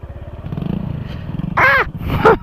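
A motorcycle climbs a dirt trail at night with a small wheelie, its engine rumbling and revving nearby. Two short loud vocal bursts cut over the engine noise near the end.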